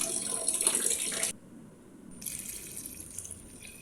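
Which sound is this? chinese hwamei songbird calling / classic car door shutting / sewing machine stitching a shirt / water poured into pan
water poured into pan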